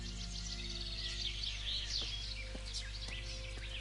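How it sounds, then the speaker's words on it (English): Finches chirp and trill in a wooded area inside the video game Kingdom Come Deliverance. The calls are faint and scattered over a steady low hum. "Listen to those finches."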